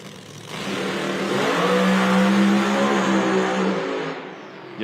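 A drag racing car's engine, a Pro Mod or nitro class machine, roars steadily for several seconds at an IHRA Outlaw Nitro event, loud and sustained with a rising tone before tapering off.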